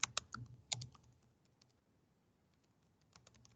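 Computer keyboard typing in two short bursts of a few clustered keystrokes each, separated by a quieter stretch of scattered light taps, close and fairly soft with no voices.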